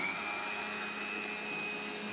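A mixer grinder grinds spice paste for nati koli saaru, a country chicken curry, giving a steady, loud motor whine with a constant high tone that runs unbroken throughout with no voices.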